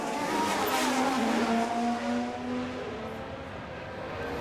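A Formula 1 car in a racing game holds a high, steady engine whine at speed, with the pitch shifting slightly as it sweeps past; loud and continuous, with no talk over it.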